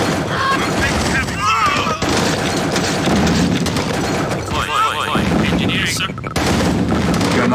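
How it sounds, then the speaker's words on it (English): Gunfire and explosions in a strategy video game battle, dense continuous shots and booms under repeated radio-style unit voice responses. "Unit I'm taking heavy fire."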